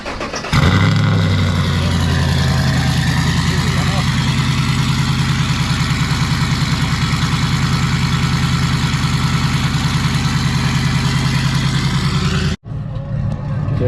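Chevrolet Silverado Z71 with a 3-inch stainless exhaust and Borla Atak muffler firing up cold: a loud crank and catch, then a steady, rapid pulsing idle held close for over ten seconds before cutting off abruptly.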